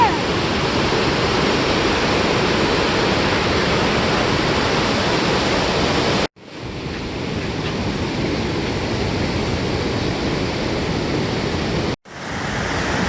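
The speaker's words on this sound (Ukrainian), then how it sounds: "Йому цікавий шум води." Water rushes loudly and steadily in a Carpathian mountain stream, a broad close roar that is briefly interrupted twice by abrupt cuts.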